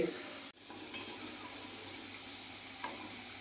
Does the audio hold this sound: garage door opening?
no